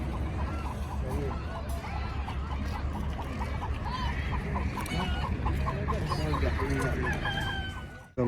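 Chickens at a bird market in Najran cluck and call in a dense, continuous chorus of rapid repeated notes, with geese honking and people talking nearby.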